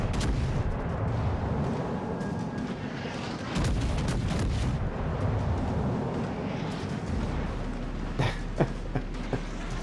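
Naval guns fire in World of Warships: Legends, with a Tier 4 Texas battleship in a player-versus-player battle: dense, continuous rumbling combat noise with heavy booms and a few sharper cracks near the end, no speech.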